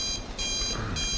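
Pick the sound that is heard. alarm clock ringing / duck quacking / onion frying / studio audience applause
alarm clock ringing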